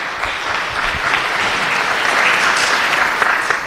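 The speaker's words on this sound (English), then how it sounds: "Give a round of applause." A forum audience on guns in America breaks into sustained, dense applause, an even roar of many clapping hands heard from within the room, without speech over it.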